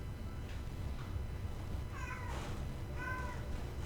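A cat lets out a few short meows, faint and some distance off, over a steady background hiss with no talk.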